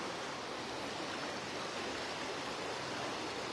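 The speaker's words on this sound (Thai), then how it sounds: "นะวันนี้น้ำป่ามาอีกรอบหนึ่ง" Flash-flood water rushes down the Mae Ai river behind a temple in Ban Hong, Chiang Mai, as a constant loud roar of turbulent current with no pauses and no voices.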